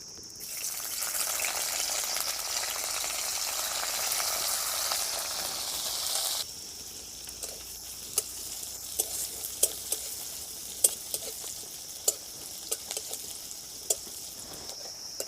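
Chopped onion fries in mustard oil in a wok, a steady loud sizzle and hiss for several seconds that drops to a quieter crackle, with sharp clicks and taps of stirring scattered over the rest.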